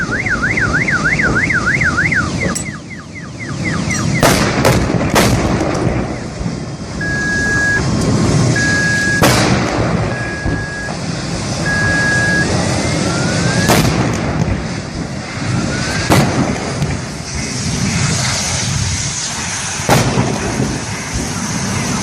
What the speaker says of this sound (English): It appears this was an explosion caused by a severe accident.